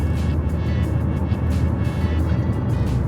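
Steady cabin road noise inside a 2011 Ford Focus cruising on a highway at 90 km/h, a constant low rumble and tyre roar with faint wind hiss and no speech.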